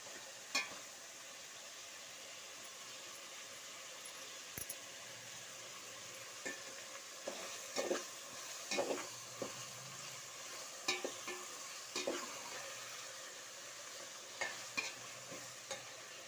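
Tomatoes are stirred and fried in a pan for plain tomato rice bath, a faint, soft sizzle broken by quiet, intermittent scrapes and taps of the spoon against the pan.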